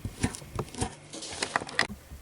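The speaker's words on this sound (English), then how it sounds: "And now I'm just chopping up my banana." A knife chops a banana on a cutting board in a kitchen, a series of soft, uneven thuds and taps, close and quiet, with no talking.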